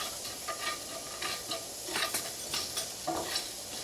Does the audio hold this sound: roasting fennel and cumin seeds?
yes